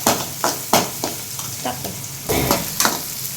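Onions sauté in a new clay pot, with a spoon stirring and scraping in loud, uneven strokes over a constant frying sizzle, close up and without talk.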